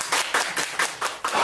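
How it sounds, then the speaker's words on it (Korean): A small audience at a Korean antique and folk-goods auction claps in a brief burst, six or seven distinct, evenly spaced claps heard close by over about a second and a half. "박수 한번"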